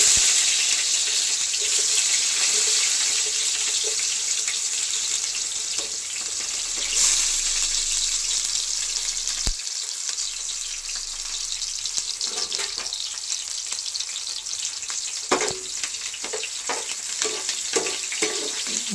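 Chopped carrot, onion, coriander and tomato frying in a pan with cloves, a continuous watery sizzle with occasional stirring scrapes and a sharp clink, close and steady throughout, no talking.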